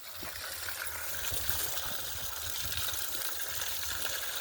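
Water splashing and trickling steadily as it is poured onto concrete for curing, with a constant hiss and some low thuds.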